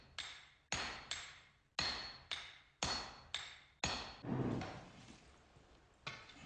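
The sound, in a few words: hammer forging steel blade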